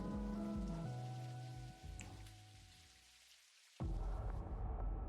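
Steady rain hisses in Necrobarista under a layer of tonal game music, with a brief drop in level before the full downpour and music return loudly.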